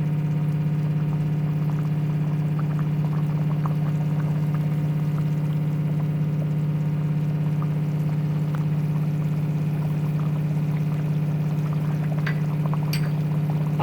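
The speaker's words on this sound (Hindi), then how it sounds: "अब मैं आँच तेज़ कर दूँगी ताकि इसका पानी खुश्क हो जाए।" A pot of chicken with its liquid boiling down over high heat gives a steady low hum. Faint bubbling and small pops run continuously, close by and with no talk.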